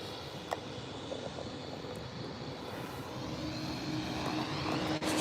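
A Ryanair Boeing 737 arrives at Birmingham airport, its engines a faint, distant, steady roar that builds slightly toward the end, with a brief thump near the start.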